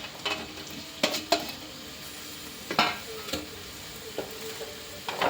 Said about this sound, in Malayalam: സവാള ഇളക്കി കൊടുക്കുന്നു